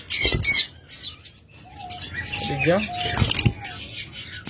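Caged pet birds, mutation-bred pairs on sale at a bird market, give sharp squawks and chirps with bursts of wing flapping, some close and loud, mixed with background chatter of people talking.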